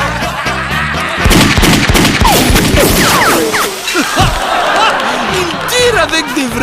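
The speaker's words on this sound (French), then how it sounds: "Il tire avec des vraies balles maintenant." Cartoon gunfire with real bullets, a burst of loud, rapid shots and crashing impacts mixed with frantic voices and bright sound effects, continuing in bursts across the scene.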